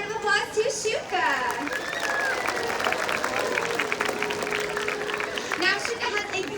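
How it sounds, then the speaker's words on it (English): Crowd applause and cheering in an outdoor orca show stadium at SeaWorld San Diego, a broad clapping wash with whistles and chatter mixed in, under a presenter's amplified voice. "Let's give a big round of applause to Shuka."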